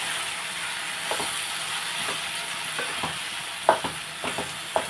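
Tomato curry with potato simmers and sizzles softly in a pan, a steady low hiss punctuated by light, irregular scrapes and taps of a spoon stirring, close and alone without speech.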